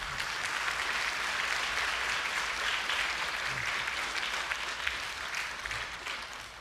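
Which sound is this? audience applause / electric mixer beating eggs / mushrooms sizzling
audience applause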